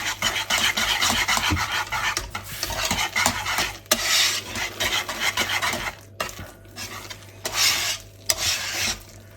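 Potato purée is mashed and stirred energetically in a pot, with scraping along the sides in uneven bursts of rasping and clinking, close and fairly loud, with no talking.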